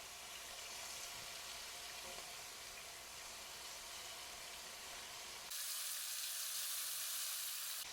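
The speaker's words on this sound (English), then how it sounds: "You want it to get a nice sear." Beef strips sear in a hot stir-fry pan with a steady, loud sizzle, and the hiss brightens and intensifies sharply near the end, with no voices.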